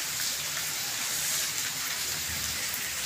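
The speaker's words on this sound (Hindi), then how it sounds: "कितनी तेज बारिश हो रही है ना" Heavy rain pouring steadily onto surfaces during the monsoon season in Ballabgarh, a dense, continuous hiss throughout with no talking.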